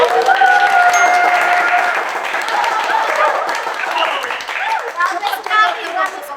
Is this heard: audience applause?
yes